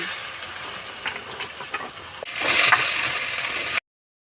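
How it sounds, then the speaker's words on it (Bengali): Potatoes and cumin hit hot oil in a kadai: a few scrapes and clinks of stirring, then a sudden loud sizzle that flares up and holds before cutting off abruptly. "এবার আমি কড়াইতে দিয়ে দেবো তেল, দিয়ে দেবো জিরে, আলু"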